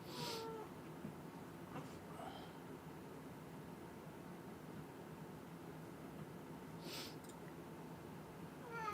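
A cat meows faintly a few times, brief and spaced apart, over a constant low background hiss in a quiet room.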